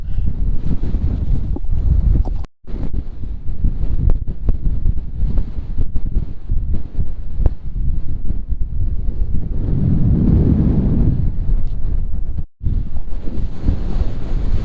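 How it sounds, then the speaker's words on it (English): Strong wind on An Teallach in the Scottish Highlands roars and buffets the microphone nearly nonstop, with two brief gaps and a faint wash of waves beneath. "Whoa, it's windy"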